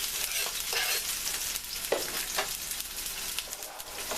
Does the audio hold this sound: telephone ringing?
no